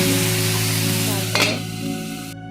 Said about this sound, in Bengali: এবার বাকি মাছগুলো সব ভেজে নিই মাছের মাথা দুটো আছে ভালো করে ভেজে